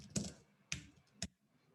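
Three sharp, separate clicks spaced about half a second apart from a computer keyboard and mouse, close and quiet in an otherwise still room.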